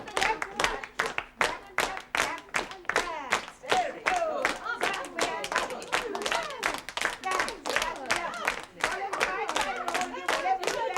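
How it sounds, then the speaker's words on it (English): A group of people clapping hands in a rhythmic, fairly steady beat around a school at Christmas, with excited voices and chatter mixed under the claps. "Clap, clap, clap."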